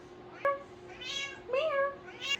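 A domestic cat meows several times, clear drawn-out calls repeated in a slow series, close and fairly quiet over a steady hum of background noise.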